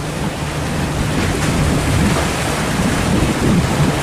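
A fishing boat racing through white-water waves off Ninh Thuận on its way into La Gi port, a loud, close, continuous rush of churning water and wind buffeting, with no voices.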